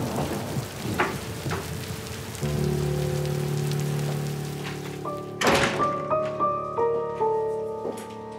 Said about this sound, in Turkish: Yağmurda kalma, gir.